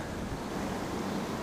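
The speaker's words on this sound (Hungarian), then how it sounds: "Ebből folyik ki szépen a patak." A stream flows out of a lake near Grundlsee in the Salzkammergut, giving a steady, even rush of water close by with no voices.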